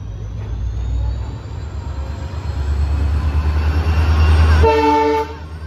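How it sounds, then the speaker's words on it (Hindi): A train approaches with a loud, growing rumble of rolling wheels, then sounds a strong horn blast near the end, close and with nothing else heard over it. "ट्रेन आई एकदम लास्ट में आएगी।"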